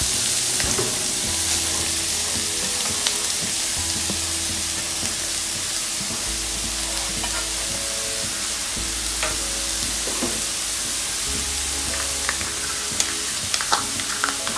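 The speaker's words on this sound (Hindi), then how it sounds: "घी गर्म हो गया है, इसमें कैरेट डाल देते हैं" Grated carrots frying in hot ghee for carrot halwa, producing a loud steady sizzle broken by frequent scraping and clinking stirs of a spoon against the pan.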